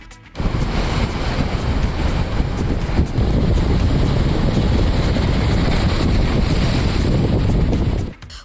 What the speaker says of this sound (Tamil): ராமேஸ்வரத்தில் கடலோர பகுதிகளில் மணிக்கு 50 கிலோமீட்டர் வேகம் வரை சூறைக்காற்று வீசுவதால் கடல் கொந்தளிப்பு ஏற்பட்டுள்ளது